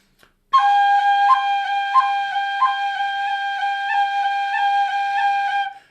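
Tin whistle playing a G short roll ornament with a B cut, bright clear tones repeated in a steady rhythm, the notes broken by quick cuts and taps, played solo and close.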